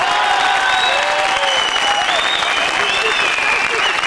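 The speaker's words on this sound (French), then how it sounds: "quelques applaudissements pour nos camarades agriculteurs" A studio audience on a French talk show applauds farmer guests, dense, even clapping sustained loudly throughout with a host's voice carrying over it.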